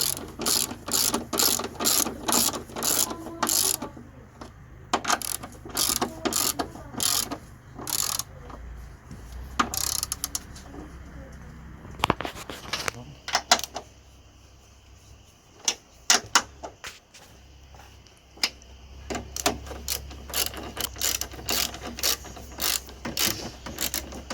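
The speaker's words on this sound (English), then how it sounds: "it's a 14mm socket to use on them." Rapid clicking bursts from a ratchet turning a 14mm socket to tighten nuts during front coil spring replacement on a Honda Civic, close and crisp, coming in uneven runs with short pauses between strokes.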